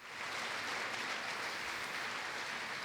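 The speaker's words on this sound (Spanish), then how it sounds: "Dale un fuerte aplauso." A church congregation bursts into sustained, dense applause during a worship service, steady and evenly loud throughout with no voices breaking through.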